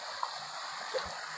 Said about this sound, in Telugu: ఇక్కడ నీటి ప్రవాహం కూడా ఎక్కువనే ఉంటుంది